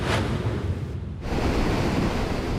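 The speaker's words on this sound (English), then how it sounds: "There's something mesmerizing watching the movement of the Gulf's waves" Steady roar of Gulf of Mexico surf washing ashore, continuous and fairly loud with rushing wind noise across the microphone.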